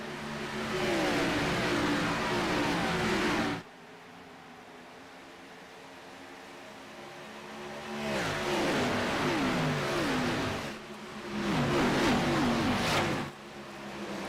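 Engines of a field of race cars roaring at the start of a race at Fontana in iRacing, loud revving rising in waves, cutting to a quiet lull, then returning in two more surges without talk.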